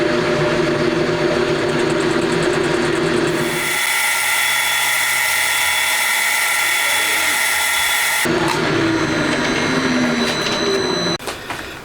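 Continuous machine whine of a metal lathe making a facing cut on a part for a homemade DOHC cylinder head, with a shrill high-pitched scraping tone through the middle stretch, loud and close, no talking.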